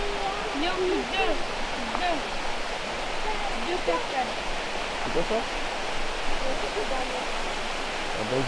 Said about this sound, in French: Il y a deux cascades.